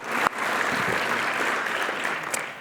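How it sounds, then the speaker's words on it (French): An audience applauds at a university club partners' evening and awards ceremony, steady, fairly close clapping lasting a couple of seconds with no talk. "Oui, on peut les applaudir, tout à fait."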